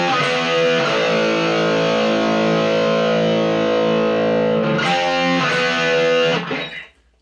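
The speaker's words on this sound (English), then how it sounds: "So that's the 2 guitars going there. That's the intro." Two heavily distorted electric guitars play the intro of a song together with sustained power chords, loud and close, then a brief chord change before the sound cuts off and fades out, with no talking.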